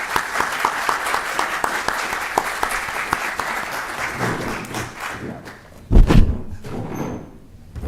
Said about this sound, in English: a salve of applause for our participants